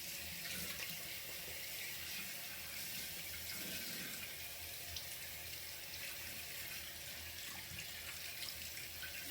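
Tap water runs steadily into a bathroom sink while facial cleansing soap is rinsed off, a constant close hiss with faint splashing throughout.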